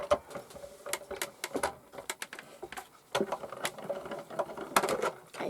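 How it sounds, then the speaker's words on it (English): A die-cutting machine presses shapes out of craft pieces from a papercraft kit, producing a string of sharp clicks, clacks and ratchety mechanical knocks in uneven bursts nearby, with brief pauses between runs. "So that is both pieces perfectly die cut."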